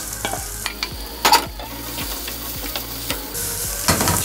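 Browned chicken livers sizzle in a pan and are stirred into onions, a steady frying hiss with a few scraping clinks of the utensil against the pan, close and alone without voices.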